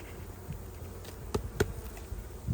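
Close, continuous buzzing of honey bees at a hive in August, with a couple of crisp knocks standing out over the drone and no one speaking.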